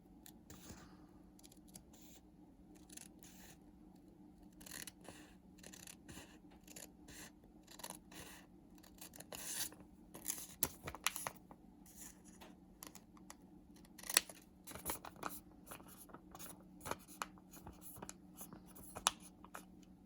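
Scissors snip through folded origami paper in a series of quiet, crisp cuts, irregular at first and then quicker and denser, set against a soft steady room hum, with no talk.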